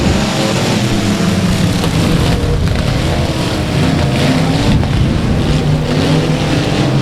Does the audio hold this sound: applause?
no